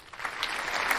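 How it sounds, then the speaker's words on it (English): Scattered clapping from a small group, fairly quiet and brief, building slightly as a few more hands join. "We're gonna hear a clap."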